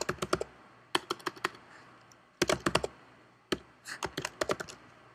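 Code being typed on a computer keyboard, with quick bursts of close, crisp key clicks separated by short pauses, in four distinct clusters and no voice over them.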